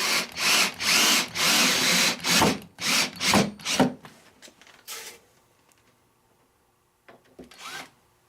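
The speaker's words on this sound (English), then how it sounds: "So I'm just using 1 1/4 inch exterior screws," A power drill drives 1 1/4 inch exterior screws into a wooden Layens beehive in several loud, close bursts that whine and bite into the wood. Quieter clatter follows, then one last short burst.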